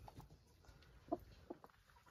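Chickens in a coop on a cold morning, with a hen and her chicks, give a few short soft clucks, the clearest two around the middle, faint against quiet background rustling.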